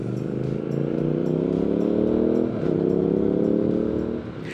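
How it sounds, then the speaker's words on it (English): A Triumph Speed Twin motorcycle with twin exhaust rumbles loudly and steadily, a deep throaty engine note that holds through most of the stretch before easing off near the end, heard close and alone. "the exhaust burbles and pops as you dive down through the gearbox under braking"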